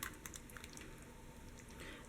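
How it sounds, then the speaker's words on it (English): A thick chicken pot pie filling is poured into a pie pan, giving a faint, soft, wet squishing and patter that runs steadily under light background noise. "now we're going to pour our mixture into the pie pan"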